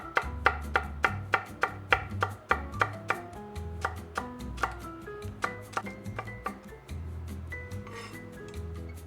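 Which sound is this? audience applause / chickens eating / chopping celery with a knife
chopping celery with a knife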